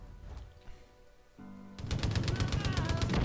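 In the shooter Far Cry 5, a fast burst of automatic gunfire erupts after a quieter lead-in, with rapid, evenly spaced loud shots rattling continuously to the end.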